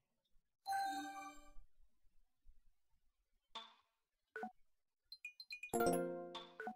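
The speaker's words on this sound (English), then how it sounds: "I was heading home when my phone rang." Phone in a video game ringing with bright chime-like dings and melodic tones, short separated bursts across the span ending in a fuller jingle, heard alone against silence.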